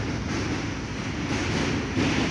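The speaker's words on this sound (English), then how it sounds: "Just the sound of the trains." A New York subway train rumbles steadily with a dense, roaring low-frequency noise that stays loud and constant throughout, with no voices.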